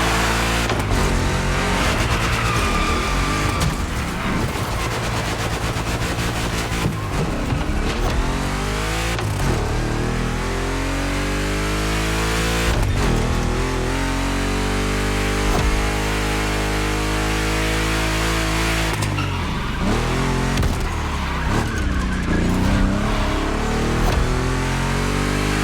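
Two Chevy big-block cars race in The Crew Motorfest, their engines roaring loud and continuous, with rising and falling revs through gear shifts and turns.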